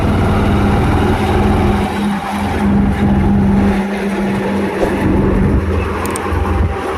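A motorbike engine runs loud and close, throttle held in third gear, giving a steady rough drone with a humming tone and small swells in revs throughout.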